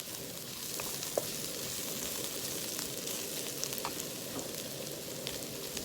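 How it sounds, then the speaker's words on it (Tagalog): Ingredients for katambak fish escabeche sauté in a hot pan with a steady, close sizzle, broken by a few sharp crackles and pops and no talking. "Tapos, gisa-gisa muna natin."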